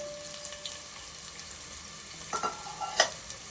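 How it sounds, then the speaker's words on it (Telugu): Country chicken curry sizzles softly in a pan under a steady low hiss, with a few light clinks of stirring near the end. "వేగనివ్వాలి ఇందులోనే రెండు పచ్చిమిర్చి వేసి"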